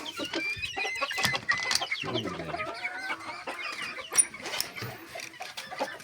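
Purebred chickens cluck in a busy, overlapping chatter at close range, with short sharp calls and a brief throaty rattle, continuing without pause.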